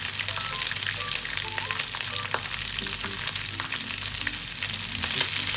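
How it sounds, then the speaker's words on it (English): Onion and mixed peppers sauté for chilli paneer, giving a constant close frying sizzle with light crackles and scraping stirs, and a faint low hum underneath. "Make sure we have to saute the onion and mixed pepper at least 5 minutes."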